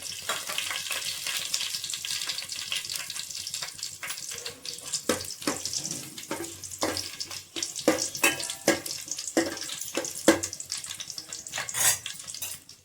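Mustard seeds, cumin and dried red chilies frying in hot oil for lemon rice: a continuous sizzle with dense crackling, popping and sharp ticks throughout, no talk.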